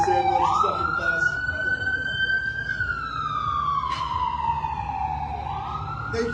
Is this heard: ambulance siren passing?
yes